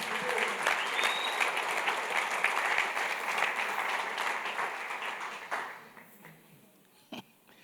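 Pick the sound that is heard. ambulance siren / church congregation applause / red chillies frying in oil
church congregation applause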